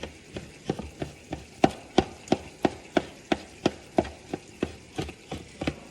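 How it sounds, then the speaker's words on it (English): A knife chops smoked eggplant into small pieces on a board, giving a steady run of sharp, close taps at about three per second with no talking. "So basically I'm chopping it off now into small pieces."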